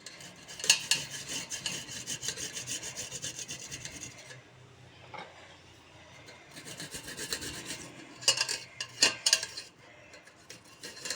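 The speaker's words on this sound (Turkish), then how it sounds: "Sarımsaklarımı da rendeleyeceğim arkadaşlar." Garlic cloves are rubbed against a metal grater in a home kitchen while soup is being made, giving quiet rasping strokes in two bursts separated by a lull.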